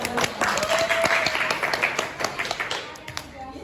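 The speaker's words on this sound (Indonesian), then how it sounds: "Boleh tepuk tangan" A classroom of high school students clapping after a group presentation, a modest scattered round that fades toward the end, with voices talking over it.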